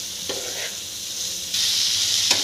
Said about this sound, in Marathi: आणखी दोन मिनट मी परतून घेते मोठ्या गॅसवरती